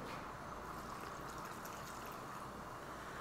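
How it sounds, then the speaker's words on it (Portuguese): Beer pours into a cooking pot of oxtail stew, a continuous, fairly even rushing splash of liquid with no voices over it. "Então vamos lá, põe a cerveja."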